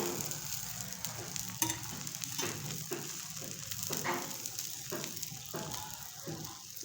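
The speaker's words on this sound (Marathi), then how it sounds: "मस्त मस्तपैकी तव्यावर टाकल्या टाकल्यास किती मस्त डोसा तयार होत आहे" Batter of barnyard millet sizzles steadily on a hot griddle as a dosa cooks, with a constant close hiss and small scraping ticks from time to time, no voices.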